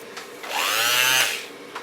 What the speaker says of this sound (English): Palm sander works.